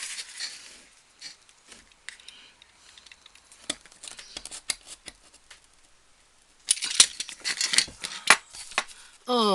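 Scissors snip through material while crafting a Tilda-style caravan, with sparse clicks and short cuts and a denser burst of cutting near the end, close up.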